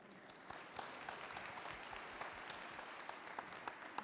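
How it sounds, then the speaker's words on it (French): An audience at a French cooking show event applauding a contestant, a continuous, fairly quiet spread of clapping with occasional sharper claps. "je vais demander qu'on vous applaudisse"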